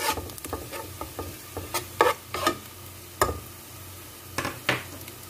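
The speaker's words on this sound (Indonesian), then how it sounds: "Langkah pertama, tumis bawang bombay." Onion sautéing in a pan: a low, quiet sizzle under a series of sharp utensil taps and scrapes against the pan, some clustered and some spaced out, with no voices.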